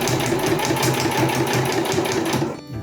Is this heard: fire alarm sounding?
no